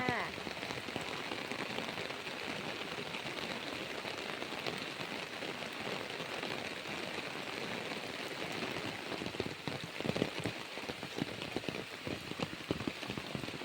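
Heavy rain pours steadily on an outdoor rural spot near a natural fence line, a dense continuous hiss that holds close and loud throughout, with a few heavier drop patters near the end.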